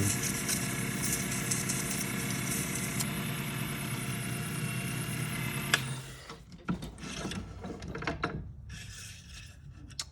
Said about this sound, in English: I am using a Win 8x12 lathe.